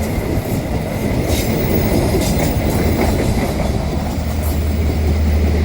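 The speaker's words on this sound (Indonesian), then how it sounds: "Dan ada kereta lagi ini dari arah Bandung menuju Jakarta ini." A train crosses the long, classic Cikubang railway bridge in Indonesia, heading from Bandung toward Jakarta, with a loud, continuous rumble of wheels and carriages throughout.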